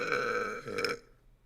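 A single drawn-out human burp, loud and close, with a brief swell near the end before it cuts off into quiet; no talking alongside it.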